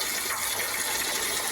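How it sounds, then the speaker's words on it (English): A hose washes water steadily against the sides of a drained backyard pond, a continuous close splashing gush with no talk. "Just trying to wash off some of these sides before I get the back in."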